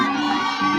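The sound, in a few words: home crowd cheering at a women's college softball game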